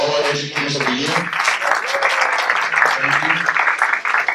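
A crowd at an educators-of-the-year award ceremony bursts into applause after a brief spoken line, clapping loudly and steadily for several seconds.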